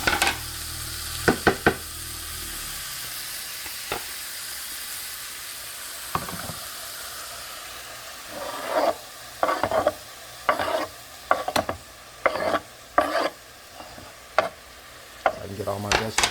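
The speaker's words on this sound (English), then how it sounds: "Get all my vegetables on my pan and saute those on that side." Vegetables sauté in a pan beside cooking butternut squash and quinoa, a steady low sizzle broken by bursts of stirring and scraping in the second half, close and alone with no talk.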